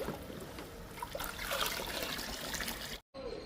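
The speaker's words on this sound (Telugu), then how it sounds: "ఇంకా లిక్విడ్ని ఒక్కొక్క మొక్కకి ఇచ్చేద్దాము." Lemon peel liquid is poured onto indoor potted plants, a steady close trickle and splash into soil that cuts off abruptly near the end.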